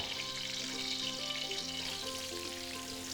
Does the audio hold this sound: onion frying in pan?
yes